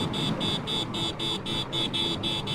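An Apache 4V motorcycle on a highway sounds its horn in quick, even repeated honks, about nine bright, buzzy beeps over steady engine and road noise.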